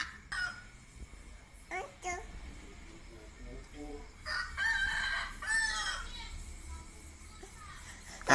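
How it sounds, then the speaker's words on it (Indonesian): A rooster crows loudly in repeated bursts, with chickens clucking in between, and a voice and chatter heard among the calls. "Ayam."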